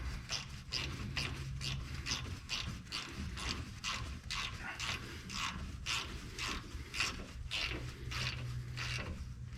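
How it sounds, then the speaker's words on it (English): A ratchet turns bolts threaded into a Ram truck frame during a coil spring upgrade, giving rapid, evenly spaced metallic clicks in a steady rhythm, close and clear throughout. "use a ratchet so you don't snap them off"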